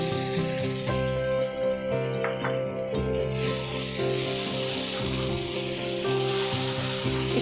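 Baim fish frying in a pan of dry-cooked spice paste, a steady close sizzle with occasional stirring clinks of a utensil against the pan, no talking.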